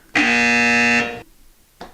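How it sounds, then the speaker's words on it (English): A loud electronic buzzer-like beep sounds once, holding steady for just under a second, then cuts off, with a brief faint start of another tone right at the end. "Why did I just get beeped?"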